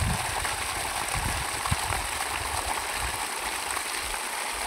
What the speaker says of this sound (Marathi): आपण चालू केली मोटर. बघू किती पाणी येते.